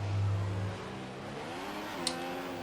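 Formula 1 car engine in the F1 2015 racing game at the German circuit, a steady mid-pitched whine accelerating after a brief low drone, with rising harmonics and a short sharp tick near the end.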